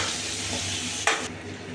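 Deseeded tomatoes sautéing in a hot pan, a steady soft sizzle with a brief scraping stir partway through.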